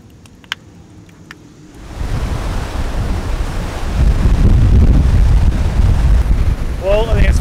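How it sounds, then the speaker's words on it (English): Heavy ocean swell pumps against a rugged Australian coastline, a loud, continuous roar of surf and gusting wind buffeting the microphone that swells up after a quieter opening with a few faint clicks. "The swell is pumping."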